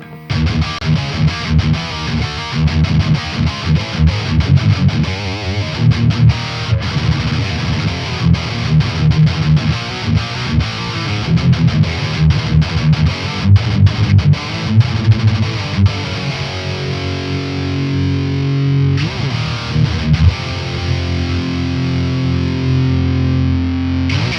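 Heavily distorted electric guitar through a Wavemind ToneSuite plugin grinding out a loud, chugging riff with palm-muted bursts, continuous and dense, then settling into sustained ringing chords near the end.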